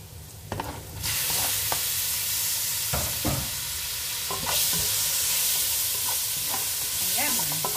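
Tomatoes fry in a hot pan for a lamb and vegetable dish, giving a loud, steady sizzle with intermittent stirring scrapes and clatters.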